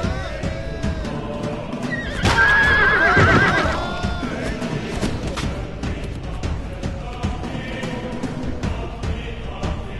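A horse whinnies loudly over a busy video game battle din of hooves, clashing, and shouts between Persian and Macedonian armies, with more faint neighs in the background.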